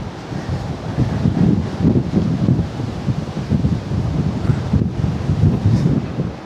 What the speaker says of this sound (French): mais il y a tellement de vent.